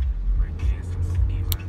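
Truck driving, heard from inside the cab: a steady low road rumble and engine drone throughout, with a voice talking over it in short bursts.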